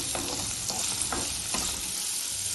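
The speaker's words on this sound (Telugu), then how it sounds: "ఉల్లిపాయ వేగిన తర్వాత బీట్రూట్ వేయాలి." Beetroot and onion frying in oil in a pan over a low flame, giving a steady close sizzle with a few soft stirring scrapes and no voices.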